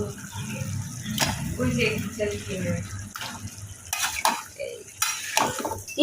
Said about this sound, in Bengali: এখন হচ্ছে মশলা দিয়ে মাছ দিয়ে কষাবো